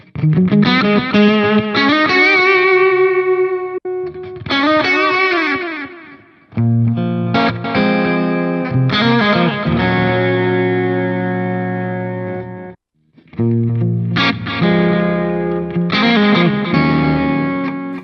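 Electric guitar through a new HX Stomp preset, distorted chords and riffs in several phrases with short gaps between them, loud and alone.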